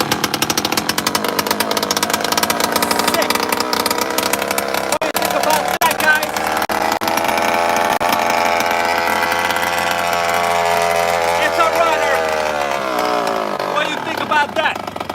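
Zenoah 23cc gas engine on a 1993 Traxxas Monster Buggy 1/6 scale RC car runs loud and raspy close by, revving high and steady before dropping away near the end, with someone talking over it.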